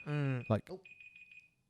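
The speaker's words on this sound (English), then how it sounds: "I thought that was a smoke alarm. What is it?" A kitchen timer alarm going off with a piercing, steady electronic tone like a smoke alarm, starting after a loud voice and continuing in a series of pulsing beeps that fade out, with people talking.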